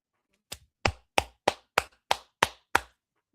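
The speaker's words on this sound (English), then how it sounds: "Clap." Eight sharp, evenly spaced hand claps ring out close and loud with silence between them, during a livestreamed Suns versus Sixers basketball play-by-play.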